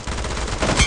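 Gunfire in PUBG Mobile arena mode, a short dense burst of shots with a louder crack near the end, close and loud.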